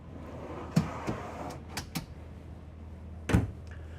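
Pull-out pantry drawers in a 2024 Newmar Dutch Star 4081 RV being opened, giving a few sharp clunks and sliding knocks spaced over a quiet interior background.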